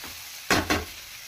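Chickpea and dry fish curry stirred in hot oil: two quick, close scraping stirs over a soft sizzle, with no talking.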